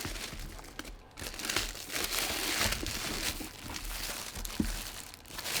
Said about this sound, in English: just got to pull up the rest of this packaging right here